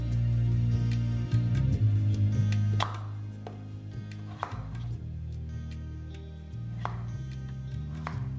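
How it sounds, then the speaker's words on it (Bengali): A knife dices a potato into small cubes on a cutting board: a steady run of crisp, close chopping taps over a low background hum, with no talk. "জাস্ট এইভাবে ছোটো ছোটো করে আপনাদের ডাইস করে এটাকে কেটে নিতে হবে।"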